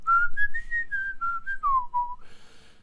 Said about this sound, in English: Even when he's doing the whistling bit